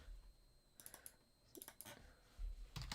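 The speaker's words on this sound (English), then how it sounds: "When we start typing in" Computer keyboard keys tapped in short irregular bursts of clicks, close and fairly quiet, with low background hum and no voices.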